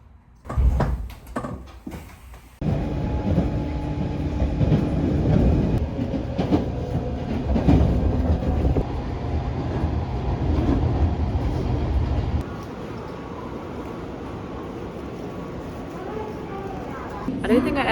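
Train running on rails in Japan, a steady loud rumble with rattling and clatter of the carriage throughout, with some knocks at the start and a quieter stretch near the end.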